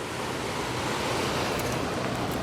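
Slow ocean waves roll in at Flagler Beach near Palm Coast, Florida, a continuous loud wash of surf with a windy roar and no voices.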